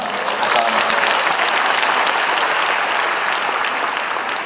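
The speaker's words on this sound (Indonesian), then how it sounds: "Menurut saya pantas kita beri aplaus khusus untuk Dino Patijala." Loud, dense audience applause fills a hall after a panel discussion with Dino Patti Djalal, sustained and even from start to finish, with no talking over it.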